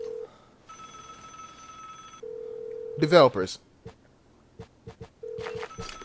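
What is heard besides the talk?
telephone ringing in the video game Vigor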